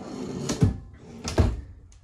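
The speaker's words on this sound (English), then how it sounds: "Pull out drawer with all your manuals, everything in it." Pull-out drawer inside a sheep camp trailer sliding open, two soft close-range thuds about a second apart, each with a short rumbling slide, no talking.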